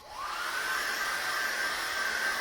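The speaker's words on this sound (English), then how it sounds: "I'm going to dry that off with a hairdryer" A hair dryer blows steadily at close range to dry an acrylic beach landscape painting, a continuous loud whirring hum from start to finish with no talk.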